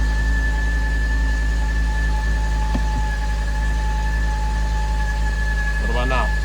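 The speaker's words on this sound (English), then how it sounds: "so basically that's the sound. What it is, we're thinking is the belt or is the pulley" BMW E60 M5 engine on a cold start with a suspected belt or pulley fault: a steady idle drone with a constant high whine running under it, one brief knock near the middle and a voice briefly speaking at the end.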